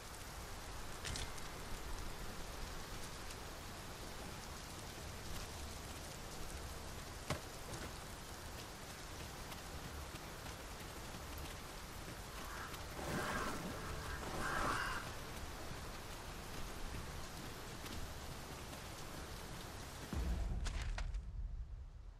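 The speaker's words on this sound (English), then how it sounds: "It is really coming down. We can push through a bit of rain, surely." Heavy rain falls steadily in the video game Dragon's Dogma 2, a soft, continuous wash of patter with a few faint thuds and brief swells, no voices heard.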